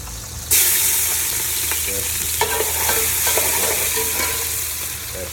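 Chopped onion hits hot oil in a pot with a sudden loud burst of sizzling that settles into a steady crackling hiss, with a few spoon clinks against the pot.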